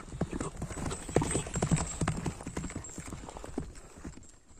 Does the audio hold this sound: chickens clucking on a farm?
no